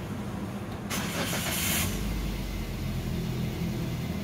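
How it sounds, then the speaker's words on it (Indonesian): A 2017 Daihatsu Terios engine cranks briefly and catches, then settles into a low, steady idle rumble close by, with no talking. "Kalau gitu saya akan nyalakan mesinnya."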